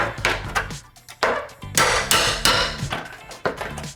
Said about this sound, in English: use one of these and then just hammer it through like this